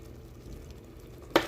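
A spoon scrapes and stirs sausage chutney with grated tomatoes in a pan over a faint sizzle, ending in one sharp clink against the pan.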